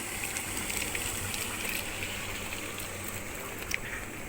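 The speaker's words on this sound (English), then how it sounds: "So let's just wait for the hot water plus the acid to be rinsed." Hot water mixed with acid rinsing through a dairy milk vat on a New Zealand dairy farm, a steady wash of running, trickling water with a faint mechanical hum beneath, continuous and moderately quiet.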